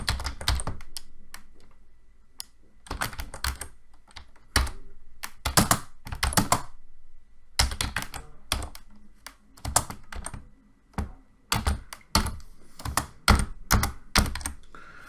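Fast bursts of typing on a computer keyboard, sharp close clicks in uneven clusters separated by short pauses, with no talking.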